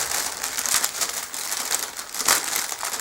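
Plastic packaging around a Sega t-shirt crinkles and crackles loudly and close up in a continuous series of crisp bursts, with no talking.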